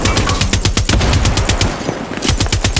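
Rapid automatic gunfire from a weapon in the video game Far Cry 6, loud and close, with dense bursts of shots in a steady fast rhythm and brief pauses between volleys.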